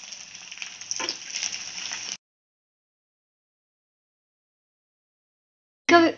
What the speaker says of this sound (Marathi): लो फ्लेमवर डिंक व्यवस्थित तळून घ्यायचा